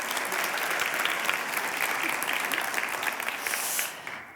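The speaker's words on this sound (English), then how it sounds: "Can you give him a big applause?" Audience at a TU Delft best graduate award ceremony giving sustained, dense applause that fades out at the end.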